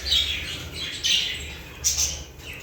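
Pet lovebirds close by give bursts of shrill chirps and squawks in a few quick clusters over a low background hum.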